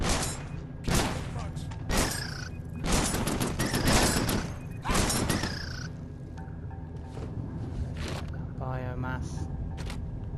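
Turret gunfire in the space game Genesis Alpha One arrives in several sharp, loud volleys spaced a second or two apart, then gives way to a steady mechanical hum.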